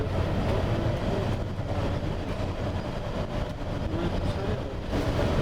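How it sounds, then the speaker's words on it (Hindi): A Pakistan Railways train runs near Sangi railway station, heard from a passing bus as a loud, continuous rumble and rattle of rail cars that holds steady throughout. "ये ट्रेन चल रही है पाकिस्तान रेलवेज़ की, सांगी रेलवे स्टेशन के पास से गुजर रहे हैं हम लोग।"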